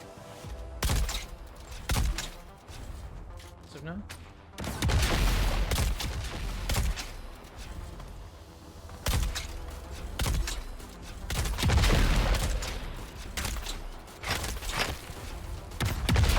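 Disruptor pistol gunfire in the video game Dune Awakening crackles in repeated loud bursts and sharp thumps, clustered irregularly with brief lulls between volleys.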